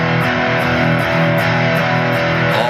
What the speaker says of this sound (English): now more in power chord form, with more distortion, of course